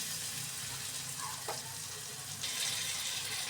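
Water poured into a sizzling fried spice masala for an egg curry, a steady hissing sizzle that swells and brightens near the end as the liquid hits the hot pan, close and fairly quiet.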